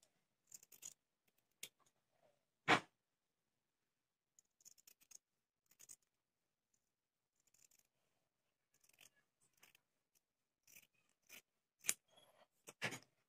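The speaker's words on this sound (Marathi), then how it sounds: "आता आपण हा गळ्याचा आकार अस्तरवर आणि मेन कापडावर कापून घेणार आहोत पहा." Scissors cut a blouse neckline through the lining and the main fabric. Quiet, close snips and crisp blade clicks come in irregular bursts with silent gaps between them, and no voices are heard.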